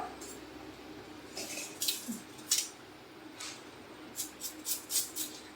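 Soft, irregular knife cuts on a board, a handful of crisp taps spaced unevenly and then coming faster, close and fairly quiet.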